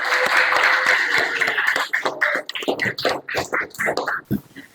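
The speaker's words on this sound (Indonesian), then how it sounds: "Tepuk tangan buat Mas Guntur" Classroom applause for a student, a brief burst of clapping from a small group that quickly thins into scattered claps and indistinct voices.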